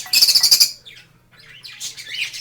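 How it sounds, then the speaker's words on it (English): Pet lovebirds chirping indoors near a cage: a rapid burst of bright, high-pitched tweets, then a pause and softer scattered chirps, close and fairly loud with no talking. "my lovebirds, Honey and Peaches"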